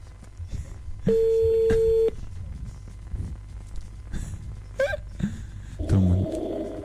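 A telephone being dialed during a live Réunion radio prank-call show, with a long steady dial-tone beep, then a rapid string of keypad tones, short electronic chirps and a burst of ringing, mixed with faint studio voices.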